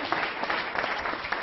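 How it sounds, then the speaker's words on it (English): Steady clapping from a group fills the clip, a dense even patter of many hands with no voices. "Round of applause."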